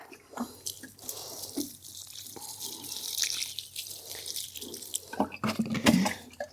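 Water poured or run onto a newly planted indigenous shrub set in a mix of acid compost and garden soil, splashing and trickling close by in uneven bursts, with brief drips and no talking.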